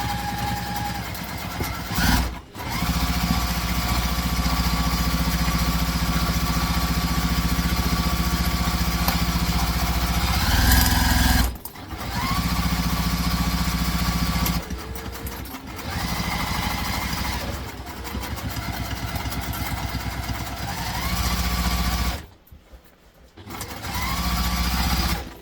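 A sewing machine bastes backpack fabric together in long, fast rattling runs, stopping briefly a few times between bursts, loud and close with no talk.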